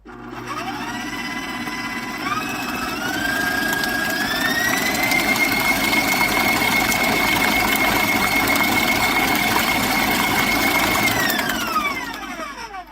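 Electric mixer beating cranberry apple cobbler batter, a loud close motor whine that ramps up in pitch, holds steady for several seconds, then winds down at the end.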